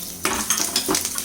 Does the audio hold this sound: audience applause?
no